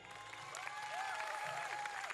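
An audience at the Miss Tahiti 2008 pageant claps, fairly faint and distant, with a sustained tonal sound, like music or a cheer, rising and falling over the applause.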